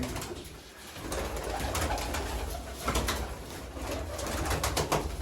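Pigeons coo steadily throughout in a new mud-built loft, several birds overlapping in a low, throaty chorus with soft rustling around them; no one speaks.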